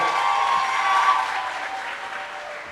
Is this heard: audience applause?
yes